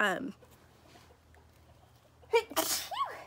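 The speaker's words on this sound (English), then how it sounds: "You always want to sneeze at a different time and you can't help it." A single sharp sneeze bursts out near the end after a quiet stretch, preceded by a short vocal sound and followed by a brief breathy tail.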